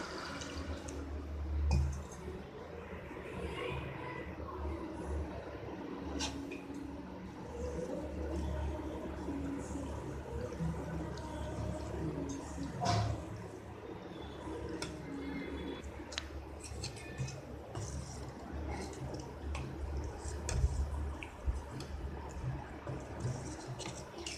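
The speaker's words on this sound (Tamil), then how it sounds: "இப்போது இதில் தண்ணி விட்டு கட்டி இல்லாமல் கலக்கணும்" Water trickles into a bowl, followed by continuous wet stirring and soft tapping as a thick maida and rava dosa batter is mixed up close.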